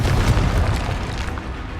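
A Confringo spell blast in the video game Hogwarts Legacy: a loud, booming explosion with a heavy low rumble that fades over a couple of seconds.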